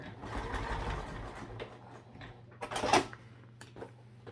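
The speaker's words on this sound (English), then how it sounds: "I'm going to backstitch on it just to make sure." A home sewing machine stitches and backstitches fabric seams during a sewing lesson, its soft, quiet mechanical whir running steadily with a brief louder burst near the end.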